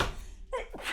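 A quick sneeze from a nearby person indoors, a sharp breathy burst near the end of the moment, with a short intake of breath before it.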